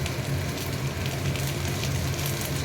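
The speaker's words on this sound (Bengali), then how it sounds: "এই যে জলটা ফুটে গেছে, এইবার আমি চাউমিনটা দিয়ে দিচ্ছি।" Water boils hard in a pot for chowmein, making a loud, continuous rushing bubble that stays steady and close all the way through.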